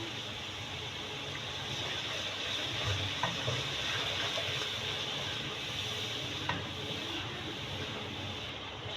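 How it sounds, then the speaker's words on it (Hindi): Spice masala of coriander powder, salt and red chilli powder frying in a pan after a spoonful of water is added, a steady hissing sizzle with faint stirring scrapes throughout, no talking. "थोड़ा सा पानी डालेंगे, 1 चम्मच के करीब"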